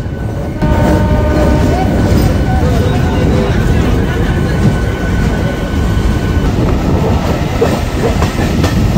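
A local train rolls steadily along a curve toward Krishnanagar City Junction, with a loud, continuous rumble and a faint clickety-clack throughout.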